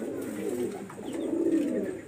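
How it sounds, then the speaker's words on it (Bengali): Close, continuous low cooing from high-quality flying pigeons, a soft throaty rumble that swells toward the end, with no voices over it. "হাই কোয়ালিটির কবুতর"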